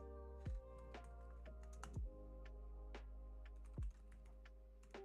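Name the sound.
typing on a computer keyboard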